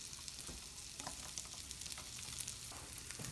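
An omelette with onions and chives fries in a pan, giving a soft, continuous sizzle and crackle with light stirring scrapes and no voices.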